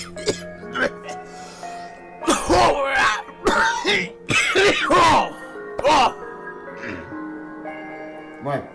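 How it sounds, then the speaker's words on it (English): A man coughs repeatedly in harsh, hacking bursts, close and loud, with throat clearing between fits and no speech, in a reading of Poe's "The Cask of Amontillado". "How long have you had that cough?"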